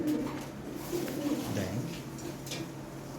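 Low, murmuring pigeon coos run steadily throughout, mixed with faint background chatter and rustling, moderately loud and close.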